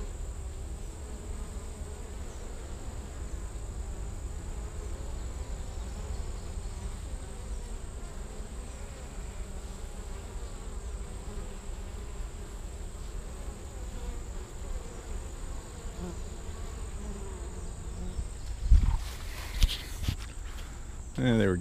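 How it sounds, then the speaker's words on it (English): A hive of bees buzzing inside the wall of a barn, a steady, dense drone that holds for the whole stretch, with a few knocks and thumps near the end. "Probably takes up that whole inner wall, this hive."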